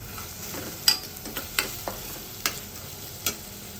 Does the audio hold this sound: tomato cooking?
yes